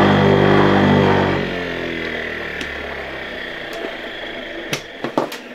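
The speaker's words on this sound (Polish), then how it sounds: "patrząc od tej strony silnik obraca się w lewo" A 1958 Croatia single-phase electric motor with a capacitor, built in Zagreb, hums loudly with a steady tonal whine, then spins down and fades after about a second and a half, followed by a few sharp clicks and knocks.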